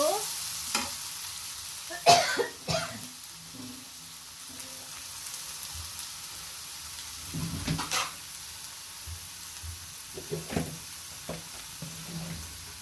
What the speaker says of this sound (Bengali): এটাকে ভাজা ভাজা করব